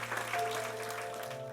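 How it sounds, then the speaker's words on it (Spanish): A church congregation claps together, a dense steady wash of applause lasting just over a second over a sustained organ-like tone. "Dale un aplauso al Señor"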